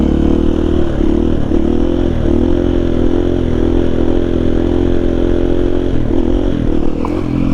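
A Honda XR80 fitted with a KTM power bundle drones steadily and loudly at a held engine speed, with slight throttle wavers and a rattly edge while being ridden.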